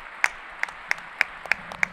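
A few people clap in a sparse, slow pattern, about seven isolated claps spaced unevenly across a quiet room, with no crowd roar.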